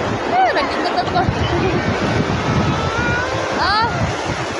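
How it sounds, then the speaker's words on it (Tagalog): Strong ocean waves break loudly on a sandy beach, a steady rushing surf with gusts of wind buffeting the microphone and people talking nearby. "Saka lakas ang alon."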